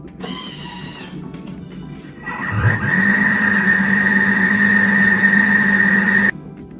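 Thermomix Friend food processor running with its whisk attachment at speed 3, a steady motor whine that starts after a few seconds and holds loud and even until it cuts off near the end; no talking.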